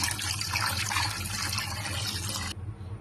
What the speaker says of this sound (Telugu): నీట్గా వాటర్ పోసి క్లీన్ చేసుకోవాలి